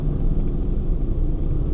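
Morning street traffic full of motorbikes makes a loud, continuous engine rumble that stays steady throughout, with no single vehicle standing out.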